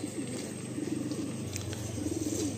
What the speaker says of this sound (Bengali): এই পায়রাগুলো দেখুন আপনারা, সাদা পায়রার মধ্যে একটা আলাদা রকম বিউটি আছে পায়রাগুলোর মধ্যে।